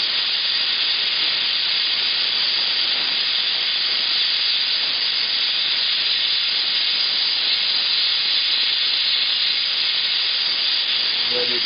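A Bernzomatic OX2550 oxygen torch burns with a steady, loud, unbroken hiss while brazing a metal joint red hot before melting in the filler rod.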